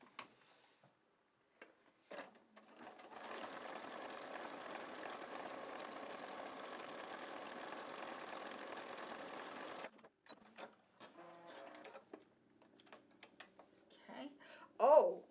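A sewing machine stitches decorative pattern 309 with a wing needle at about 4 length and 7 width, a steady mechanical whir lasting around seven seconds, close and moderately loud, framed by quiet handling clicks and brief speech-like sounds.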